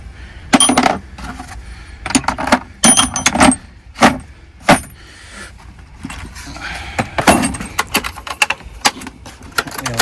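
A metal socket kit rattles and clinks as it is handled and packed away in a VW T5 van, with sharp, loud clacks and jangles in uneven bursts spread over several seconds.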